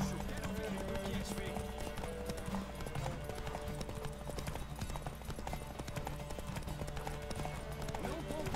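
Galloping horse hooves in a horse race in The Witcher 3, a steady clip-clop rhythm under a game music bed with a voice talking over it.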